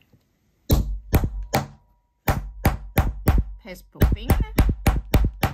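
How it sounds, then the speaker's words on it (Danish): Repeated sharp hammer blows set a Prym snap fastener through single-layer fabric, struck in quick bursts of three, four and five hits. A voice speaks briefly during the hammering. "og så er det med hammerslag"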